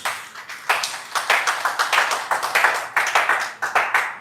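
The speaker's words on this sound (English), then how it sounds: "can we give a round of applause for OQATA Wellness Solutions?" A small gathering at a wellness event gives a round of applause, loud close claps landing in a quick, uneven rhythm, with pulses swelling and dipping throughout and no talk over them.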